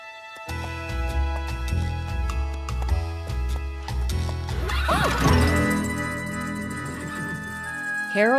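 A cartoon horse belonging to Harold, a cowboy in an Old West setting, lets out a long whinny over a busy orchestral score, rising clearly above the music near the end.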